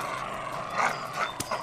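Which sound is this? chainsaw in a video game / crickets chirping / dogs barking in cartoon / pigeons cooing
dogs barking in cartoon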